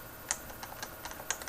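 Light typing on a Topre Realforce UP keyboard with non-clicky Topre switches: a few soft, muted keystrokes close by, two slightly sharper, against a quiet background with no talking.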